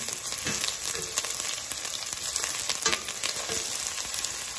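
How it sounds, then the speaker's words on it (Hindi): Sliced onions fry in hot oil with a dense, crackling sizzle, broken by scattered pops and stirring scrapes, steady and close throughout with no talking. "प्याज को हमें लाल करना है, हमें 3 से 4 मिनट लगेंगे प्याज को लाल करने में।"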